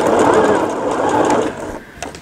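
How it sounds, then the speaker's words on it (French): A sewing machine stitching a fabric pouch with piping, giving a steady close whir for about a second and a half before it slows and stops. "je repasse en machine."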